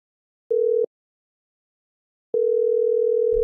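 A phone call rings out unanswered: a short steady electronic tone, a pause, then a longer continuous tone, clear and alone with no voices.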